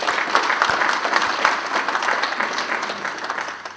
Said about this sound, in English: I think that actually deserves a round of applause